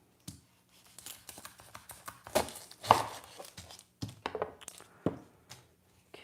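Yellow onion being chopped on a board, a run of sharp, quiet knife taps with uneven rhythm and short pauses, close to the microphone.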